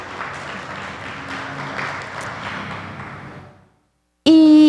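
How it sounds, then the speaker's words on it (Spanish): A church congregation applauds in a loud, sustained burst of clapping that fades out after a few seconds, followed by silence and then a sudden loud tone. "Dale un fuerte aplauso al Señor."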